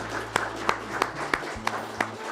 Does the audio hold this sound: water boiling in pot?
no